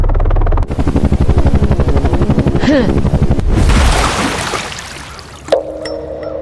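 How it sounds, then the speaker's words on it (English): A helicopter's rotor thumps loudly and rapidly, then gives way to a roaring rush of wind and engine whine that gradually settles down. "Suddenly, a helicopter lands behind her."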